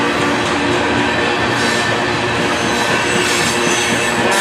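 Steady, loud rolling roar of a Norfolk Southern grain train passing close by, with wheels and cars rattling continuously and a faint hint of squeal, no voices.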